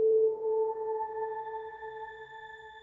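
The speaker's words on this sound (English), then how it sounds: "increase our dry wet to get a little bit more of that reverb sound in here" A sustained synth tone washed in shimmer reverb from Arturia Pigments 4, a bright held note with pitch-shifted overtones that ring on and slowly fade, alone without talk.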